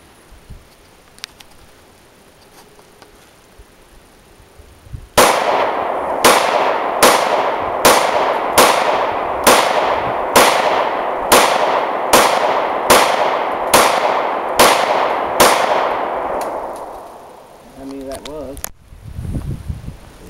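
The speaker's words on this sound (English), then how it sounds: "It's a lot more fun to shoot it fast." Rapid string of about a dozen gunshots fired in quick, steady succession during outdoor target practice, loud and close, each crack trailing into a brief echo before the firing stops.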